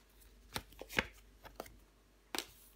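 A tarot card, the ten of cups, flipped over onto a table: a few soft, quick taps and swishes spaced irregularly, quiet and close, with no voices.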